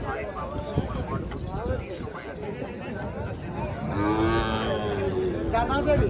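Bullocks low repeatedly amid a busy outdoor crowd at a livestock market, with voices chattering and hooves clattering throughout.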